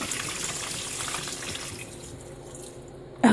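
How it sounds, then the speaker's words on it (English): Water pours steadily from a bucket into a Wonder Wash hand-cranked washer, a loud continuous gushing that tapers off, followed by a sharp clunk at the end. "And pour the water in"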